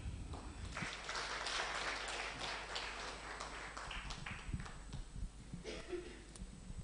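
Audience applause at a festive celebration event, a dense wash of many hands clapping steadily from the start, holding level for several seconds and thinning slightly toward the end, with no one speaking.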